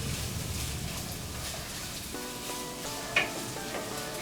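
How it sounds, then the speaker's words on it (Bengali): Capsicum and carrot sauté in a pan for veg noodles with a soft, steady sizzle, light stirring and a utensil clink or two. A faint tonal hum runs in the background and nobody speaks. "1 মিনিটের মতো আমি সটে করে নিচ্ছি।"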